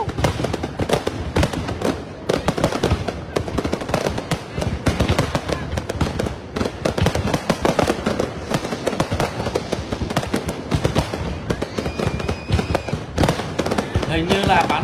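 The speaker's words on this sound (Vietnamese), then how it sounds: "Bắn pháo hoa nổ liên tục luôn, đẹp quá." Fireworks at a New Year 2023 display burst loudly and continuously, a dense crackling barrage of pops and booms close by, with a spectator talking excitedly over the noise.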